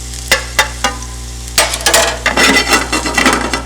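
Garlic cooks in a pan over low heat: a few sharp utensil clicks against the pan come first, then a steady sizzle with scraping as it is stirred, close and fairly loud.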